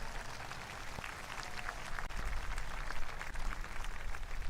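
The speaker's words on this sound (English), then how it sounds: "Keep applauding for Major General Combs." Outdoor crowd applause at a Veterans Day parade at the Army and Navy Academy, a steady wash of many hands clapping that builds slightly louder toward the end.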